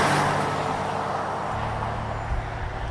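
A 2025 Mazda CX-50 Hybrid drives along with a steady, broad engine and road roar from inside the cabin, even and moderately loud throughout.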